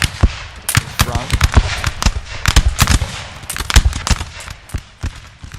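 Rapid, irregular musket volleys crackle in a Napoleonic battle in the strategy game Napoleon Total War, loud sharp reports overlapping one another with a voice talking over them.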